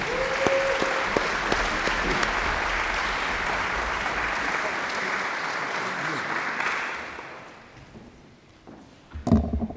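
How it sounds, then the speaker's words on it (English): An audience at a university faculty excellence awards celebration applauds Kathy Bryce and the Foundation Board, a dense, steady burst of clapping that fades out after about seven seconds, followed by a brief knock. "let's give a big round of applause to Kathy Bryce and our Foundation Board"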